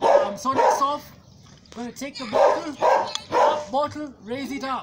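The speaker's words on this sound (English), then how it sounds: "Sorry, that's my dog barking." A dog barks repeatedly in short bursts during an indoor water-bottle exercise session, the barks fairly prominent and mixed in with a person talking throughout.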